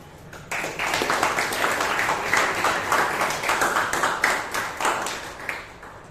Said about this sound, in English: Can we have a huge round of applause for the president of our club?